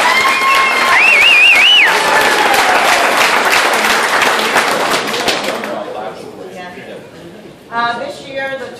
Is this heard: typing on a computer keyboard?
no